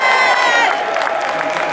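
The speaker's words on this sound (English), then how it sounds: "give yourselves a round of applause for that" Crowd at an outdoor street march breaking into applause and cheering, loud and close, with shouts and scattered voices mixed into the clapping.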